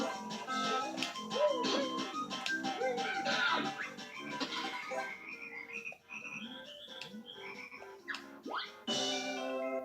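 Frogs croak in the Banjo-Kazooie video game, a busy run of cartoonish croaks and swooping calls layered over bright game music, continuous for about ten seconds with no speech.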